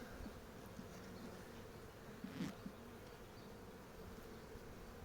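A steady, dense buzzing drone of many honey bees around a hive, continuous throughout with a brief louder swell in the middle.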